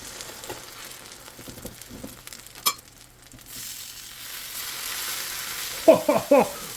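Hash browns sizzle softly in a pan under a low, steady hiss. A few light scrapes sound early, and three sharper clatters near the end come as the pieces are cut and flipped.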